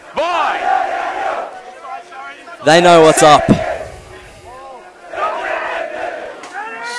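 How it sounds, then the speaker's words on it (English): A school rugby crowd of supporters on the sidelines roars and chants loudly in bursts, with one sharp peak of shouting mid-clip, mixed with a commentator's voice talking over it. "the Ipswich Grammar crowd are loud and proud on the sidelines"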